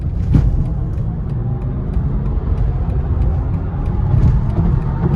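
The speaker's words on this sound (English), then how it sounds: "right now I have the option of taking this car onto the highway, and I'm going to accelerate" Constant road and wind roar fills the clip, a steady rushing rumble of a 2023 BMW i4 M50 electric car accelerating on a highway.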